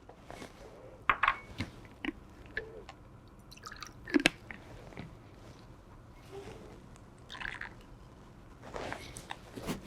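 Water drips and splashes intermittently while rinsing out a beaker, with small clinks and squishy liquid sounds scattered across a quiet background.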